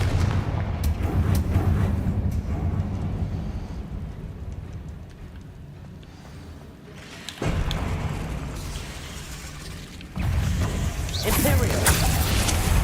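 A Confringo spell explosion in Hogwarts Legacy, heard as repeated booming blasts and rumbling impacts amid dense game noise, with a fresh loud burst partway through and another near the end.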